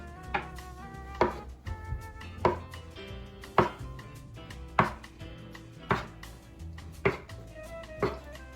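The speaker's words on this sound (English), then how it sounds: "just get your knife and just cut them into little inch pieces like that" A knife cuts gluten-free gnocchi dough into inch-long pieces on a board. Sharp, close chops land about once a second in a steady rhythm, eight or nine in all, with no talking.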